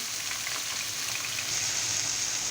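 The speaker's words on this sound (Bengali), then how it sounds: "আমি এখন করলা ভাজি করব" Sliced bitter gourd frying in hot oil in a home kitchen, a steady hiss of sizzling that swells slightly louder partway through, with no voices.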